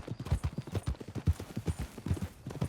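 Horse hooves clip-clop in a steady trotting rhythm while riding in the video game Red Dead Redemption 2, close and even, with no talk over the hoofbeats.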